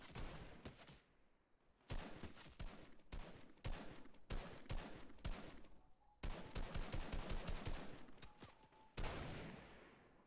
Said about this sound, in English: Yeah, I hear gunshots.